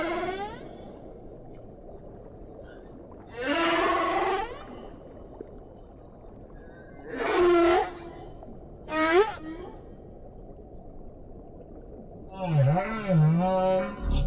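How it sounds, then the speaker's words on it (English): Underwater whale song from a gathering of whales in the South Pacific and Southern Oceans: drawn-out moaning and sweeping tonal calls in several separate bursts, with long quiet gaps between them over a low background hum. "The song travels far underwater, especially the deeper, low-frequency sounds that can be heard many miles away."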